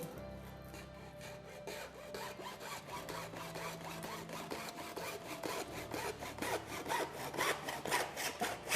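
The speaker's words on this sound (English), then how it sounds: "So if you don't have anything but a hacksaw, you can do it." A hacksaw cuts through a tractor PTO shaft clamped in a vise, rhythmic back-and-forth rasping strokes that grow steadily louder and quicker, close up with no talking.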